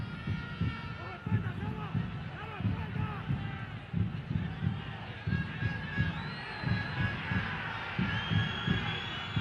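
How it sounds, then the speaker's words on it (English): A home stadium crowd at a Honduras versus El Salvador World Cup qualifying football match roars and chants steadily, with rhythmic rising swells and a commentator talking over the dense noise. "Crowd urging Honduras on here."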